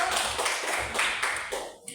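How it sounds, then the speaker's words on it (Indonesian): Children in a classroom clap their hands in a short, quick burst of rhythmic claps lasting about two seconds, moderately loud and close, ending abruptly. "Tepuk tangan dulu anak ibu."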